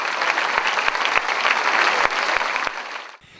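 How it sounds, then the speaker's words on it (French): An audience at a stage tribute show claps in a dense burst of applause that holds steady for about three seconds and then dies away. "Mademoiselle Gwendoline, c'est vos applaudissements."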